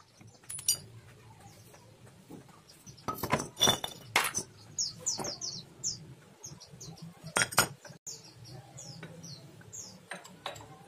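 Metal parts of a Suzuki Nex FI scooter with a worn, noisy front end clink and clatter as it is taken apart, giving irregular sharp taps and scrapes with soft background noise.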